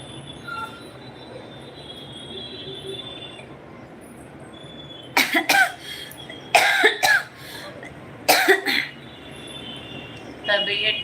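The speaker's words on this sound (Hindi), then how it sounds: "खांसी आ रही है" A person coughs several times in quick, harsh clusters during a home live session. The close coughs stand out over quiet background noise.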